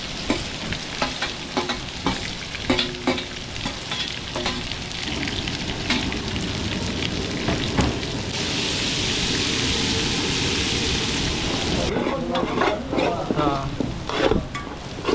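Onions tipped onto whole garam masala in a pan fry loudly, a sustained hiss swelling midway while a spoon stirs and scrapes in irregular strokes, close and dense.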